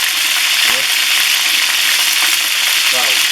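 Chicken frying on a disco pan, a loud continuous close sizzle with faint occasional stirring scrapes and no talking.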